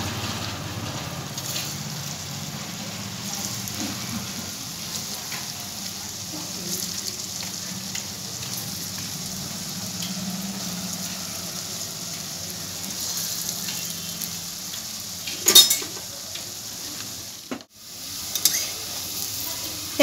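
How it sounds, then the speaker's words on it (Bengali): Elephant foot yam koftas fry one by one in hot oil on lowered gas, producing a steady, even sizzle throughout, with a couple of louder knocks near the end and a brief dropout. "এরপর আমি যে কোপ্তাগুলো গড়েছিলাম সেগুলো একে একে দিয়ে দিচ্ছি"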